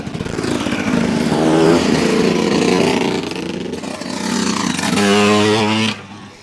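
Off-road vehicles pass close by with their engines revving loudly, the noise surging, easing, then surging again before cutting away.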